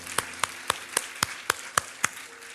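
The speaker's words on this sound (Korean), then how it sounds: "우리 하나님께 감사와 영광의 박수를 드리겠습니다." A church congregation at a Seoul Dream Church Sunday service claps in unison to give thanks to God, eight sharp, evenly spaced claps at a steady beat, loud and clear with no talking.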